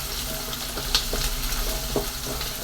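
Garlic frying in sesame oil for a garlic chutney, a dense, even sizzle close by with a few soft stirring clinks, no talking.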